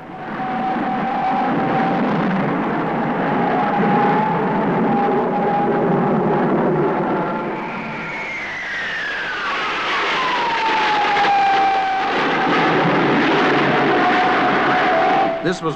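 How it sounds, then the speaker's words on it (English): Red Pelicans jet aircraft fly in formation on a landing approach, with a loud engine whine that sweeps downward in pitch as they pass. A voice seems to talk over them. "landing the jets in formation"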